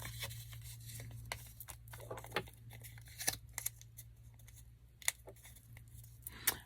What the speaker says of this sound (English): we're going to fold it 3 times